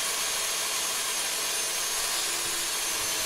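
A steady, harsh grinding whine of a drill boring through thick metal continues without a break, loud and close.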